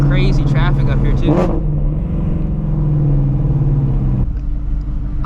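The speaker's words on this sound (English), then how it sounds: "And we got some crazy traffic up here too." Road traffic rolls past a Shelby Mustang gathering: a loud, close car engine revs and passes, then a steady rumble continues with voices over it.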